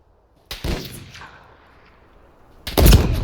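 Two sharp sniper rifle shots in Call of Duty: MW3, set on a snowy battlefield; the first booms and rolls away in a long echoing tail, the second cracks loud and heavy near the end.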